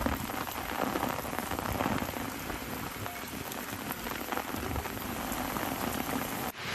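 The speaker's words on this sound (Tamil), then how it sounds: "நெல்லை மாவட்டத்தின் பெரும்பாலான பகுதிகளில் குளிர்ந்த காற்றுடன் கனமழை பெய்வதால் இதமான சூழல் நிலவியது" Heavy rain falls with cold wind across Tirunelveli district in Tamil Nadu, a dense, even roar of downpour that stays loud and unbroken from start to finish.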